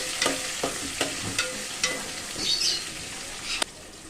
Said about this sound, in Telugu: అది కూడా దీనిలో వేసుకుంటున్నా. అయితే ఉల్లిపాయ మంచిగా ఫ్రై కానండి.